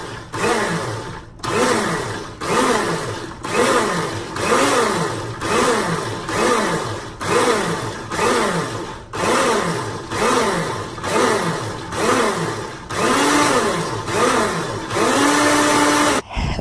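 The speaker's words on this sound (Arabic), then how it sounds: "مسامحوني على صوت الخلاط" A blender whips eggless mayonnaise, whirring loudly and close in repeated surging pulses, its motor pitch rising and falling rhythmically over about fifteen seconds, briefly cutting out once.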